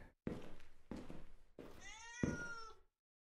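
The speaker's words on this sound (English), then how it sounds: "That's just a cat!" A cat in the horror video game Akai Onna meows four times in a row, loud and close, the last call a long rising, wavering yowl before sudden silence.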